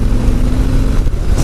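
A 2018 Harley-Davidson Heritage 114 with its stock exhaust rumbles steadily under load while riding, a low, loud, continuous engine drone with wind noise over it.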